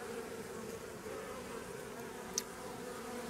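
Honeybees buzzing at the hive entrance as foragers carry in pollen, a continuous low hum from many insects, steady and close with no voices.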